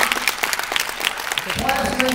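A high school audience in Plainfield claps in a scattered, brief burst that is partly masked by someone speaking over it.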